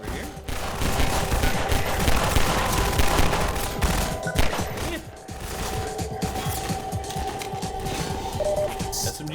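Rapid submachine gun fire in Half-Life 2, sustained bursts of dense, loud shots with a short pause midway, over clattering mechanical game noise.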